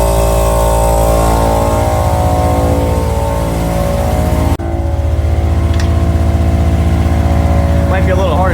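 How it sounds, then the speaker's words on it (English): An electric air compressor in a shed, set up to inflate a riding mower tire, runs with a loud, steady motor drone and a continuous hum. There is a brief dip partway through, and a voice is faintly heard over it. "I actually have the compressor down here in the shed, plugged in, ready to go"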